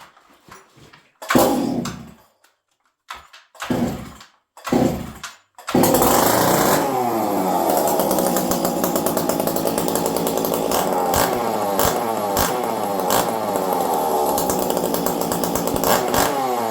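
Stihl MS460 chainsaw being started: several sharp pull-cord yanks and sputters, then the engine catches and runs at a loud, steady high-pitched drone close by.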